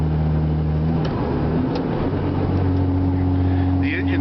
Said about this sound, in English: The engine fan is on.